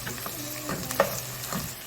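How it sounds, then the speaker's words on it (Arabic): Turnip and chard fry in a pot, a soft continuous sizzle broken by the scrape and clink of stirring, with one sharper knock near the middle. "هنظل نحمس بالسلق والشلغم"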